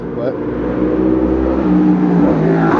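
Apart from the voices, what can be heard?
motorcycle passing by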